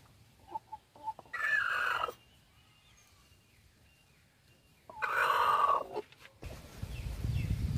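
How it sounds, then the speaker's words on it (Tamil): A brooding country hen sitting on eggs gives two harsh, loud warning bursts, each lasting about a second, with short clucks and quiet gaps between them, heard close up. "நீங்கள் கோழி பக்கத்தில் போனாலே அது வந்து"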